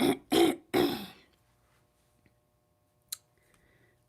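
Three harsh coughs in quick succession, close and loud, followed by near silence with a couple of faint clicks.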